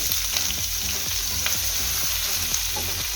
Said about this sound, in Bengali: আমি ফার্স্টে গাজরটা দিয়ে দিচ্ছি তেলের মধ্যে